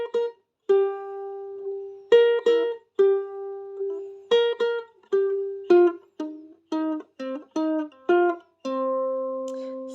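Ukulele picking a song's riff, a string of short plucked notes in a bouncy, uneven rhythm with brief gaps between phrases, close and clear with no voices.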